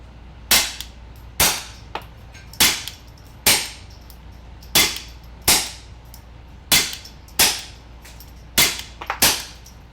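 Suppressed .22LR shots from a Browning P22 pistol with a Griffin Armament Checkmate suppressor and a Mosquito with an AAC Element, about a dozen sharp cracks spaced irregularly, each with a short decaying tail.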